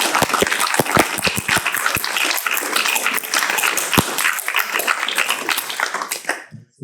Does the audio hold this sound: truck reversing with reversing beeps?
no